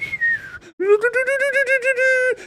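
In a 1989 action film scene, a handheld whistle gives a short falling tone, then a loud, warbling trilled blast of about a second and a half.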